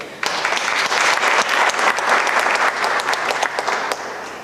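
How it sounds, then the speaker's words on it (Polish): Sustained audience applause at a poetry gala, dense steady clapping from many hands that starts abruptly and holds strong throughout. "także też wielkie brawo"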